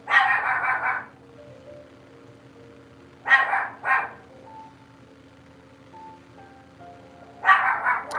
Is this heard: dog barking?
yes